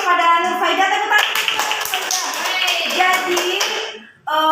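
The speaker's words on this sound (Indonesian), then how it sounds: "Tepuk tangan." A classroom group claps for a student after a micro-teaching presentation, a dense burst of many hands that fades out before a voice resumes.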